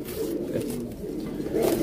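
Pigeons in a loft coo in low, soft, rolling murmurs, close and steady throughout with a slight swell toward the end.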